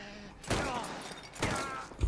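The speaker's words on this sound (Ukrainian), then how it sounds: "Далеко не бере дробаш." Shotgun gunfire in the Mafia The Old Country video game, two loud, sharp blasts about a second apart, each with a short ringing tail.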